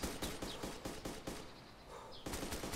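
Rapid automatic gunfire from the video game Arma 2 DayZ, bursts of sharp cracks in uneven clusters, sounding fairly distant, with a brief lull in the middle before another burst.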